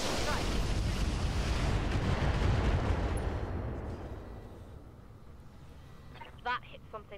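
Gunfire from the tactical shooter game Roguepoint opens loud and booming, then rolls off into a fading rumble over several seconds before someone speaks briefly near the end.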